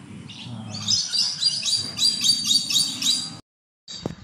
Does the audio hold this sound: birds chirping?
yes